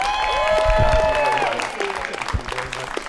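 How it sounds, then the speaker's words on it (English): Applause from a crowd at an outdoor political potluck picnic as a congressman is welcomed, clapping mixed with musical tones at first and then thinning into scattered claps and crowd murmur. "let's give a big round of applause to Congressman Don Beyer"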